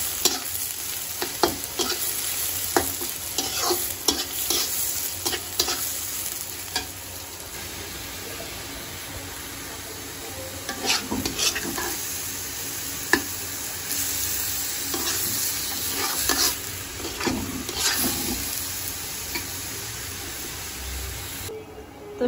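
Onion and leafy greens (saag) frying in a pan, a steady loud sizzle with repeated scraping stirs throughout, no voices.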